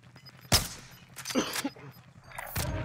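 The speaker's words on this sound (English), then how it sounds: "He's getting shot at from the other side" Gunfire in a multiplayer shooter video game, a few sharp loud bursts spaced roughly a second apart over quieter background noise, with players talking in between.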